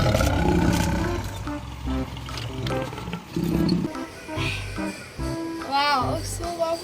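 A toy lion gives a series of loud electronic roars with short pauses between them. A voice talks in between the roars, and another toy sound chirps briefly near the end.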